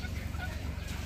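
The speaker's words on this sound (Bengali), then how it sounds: "দেশি মুরগি" Desi chickens at a poultry stall in a market cluck softly among low background rumble, brief and fairly faint.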